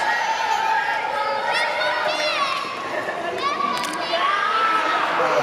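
A wrestling event crowd cheers and shouts continuously, with high excited yells and whistles rising over a dense roar of many voices.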